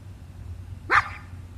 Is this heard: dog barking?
yes